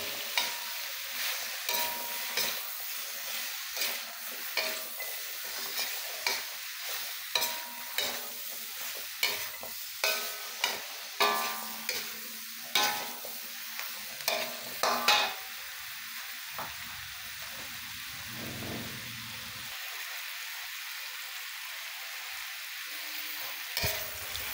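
Chop suey vegetables with chickpeas are stirred in a hot pan, a steady sizzle with repeated scraping strokes of a utensil against the metal, close and continuous.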